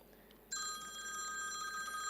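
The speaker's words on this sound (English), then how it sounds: "sorry, but I don't know how to put this phone off." A mobile phone suddenly starts ringing during a university mathematics lecture on number theory, a bright steady electronic ringtone cutting in after a quiet moment in the hall and continuing loud.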